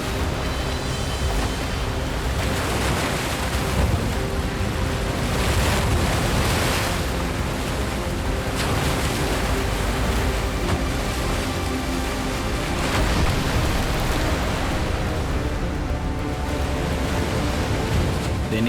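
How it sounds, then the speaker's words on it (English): Heavy Atlantic surf crashing onto a beach in a gale, a continuous loud roar of breaking waves with repeated surges and strong wind buffeting, with no voices. "They're not ready to cope with waves of this size."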